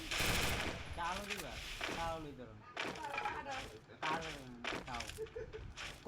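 Bursts of rapid gunfire from a multiplayer video game crack in quick, repeated volleys throughout, mixed closely with someone talking excitedly over the shots.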